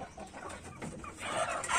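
A native village chicken clucking close by, a short run of soft, throaty clucks that grows a little louder toward the end.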